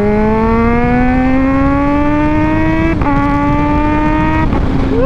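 A Kawasaki Z H2 motorcycle accelerates hard in first gear, a loud close engine whine climbing steadily in pitch with brief dips at shifts near three and four-and-a-half seconds, no talk.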